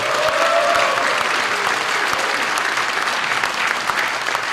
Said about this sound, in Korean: 우리 김승환 교육감님께 다시 한번 뜨거운 박수로 환영해 주십시오